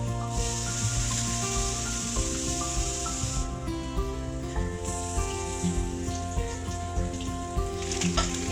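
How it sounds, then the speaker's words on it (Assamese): Small fish wrapped in banana leaf parcels sit on a dry, hot karahi and give off a soft, steady hiss and sizzle close by, with faint clinks and a low background hum. "কেৰাহীৰ ওপৰত মই টোপোলাকেইটা ইয়াতে এনেকৈ দি দিম।"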